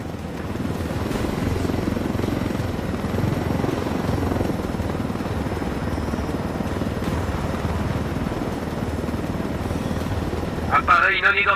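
Helicopter in the Ghost Recon Wildlands video game, a steady loud rotor and engine drone filling the whole stretch, with a brief radio-like burst near the end.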